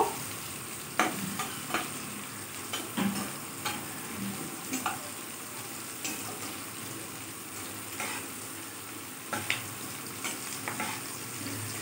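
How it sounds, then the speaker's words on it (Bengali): Quiet, steady frying of baby corn lightly fried in a pan for crispy chili baby corn, with a soft sizzle and occasional stirring clicks and scrapes from a spatula, no voices. "আস্তে আস্তে এটা একটু ভাজা হবে"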